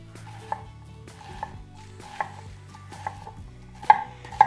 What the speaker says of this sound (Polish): czerwoną cebulę. Również kroję w kostkę.